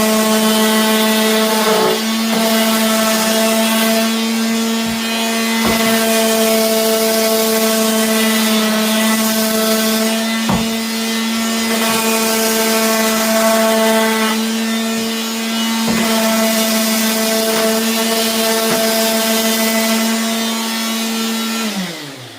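Power sander running continuously on a cabinet door during kitchen cabinet painting prep, a loud, steady whining drone with brief dips as the sander shifts across the surface, ending as it winds down, with no talk.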